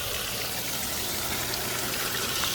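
A backyard waterfall runs and fills, giving off a constant broadband rush of gushing water that holds steady and close, with no pauses or other sounds standing out.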